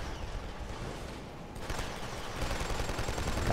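M82 rifle shots ring out in a Killzone 2 multiplayer match on the Helghan Industries map, with bursts of battlefield gunfire that grow a little louder partway through.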